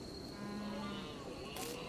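A cow moos in the farming colony sim RimWorld, a short low tonal call held for about half a second, fairly faint under a steady bed of game ambience, with a brief bright burst near the end.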